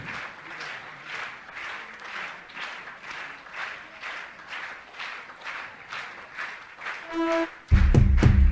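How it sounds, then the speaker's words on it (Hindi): A crowd at an annual religious festival's lamp-lighting ceremony claps in steady, rhythmic bursts at a moderate level, ending in a sudden loud, harsh thump. "तालियां बजती रहनी चाहिए आपकी।"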